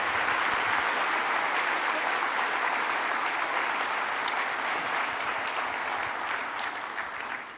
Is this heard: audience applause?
yes